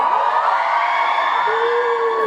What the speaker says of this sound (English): Small cheer.